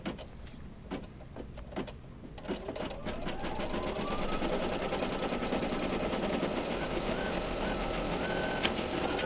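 An embroidery machine stitches an in-the-hoop Valentine placemat, starting with a few separate clicks and thumps before settling into a steady, fast mechanical whir that runs on continuously and evenly to the end.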